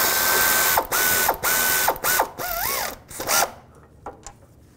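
Ratchet wrench tightening bolts on a variable valve timing sprocket of a 2010-2017 Chevy Equinox engine, a series of close, loud rapid clicking bursts separated by brief pauses, with occasional squeaky metallic tones, fading quieter toward the end.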